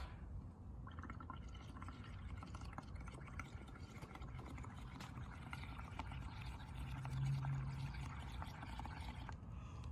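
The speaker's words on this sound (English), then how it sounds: "What I'm gonna do is I'm gonna blow bubbles" Bubbles blown through a straw into a cup of liquid make a steady, soft bubbling and gurgling that runs throughout at close range, at low level, with no talking.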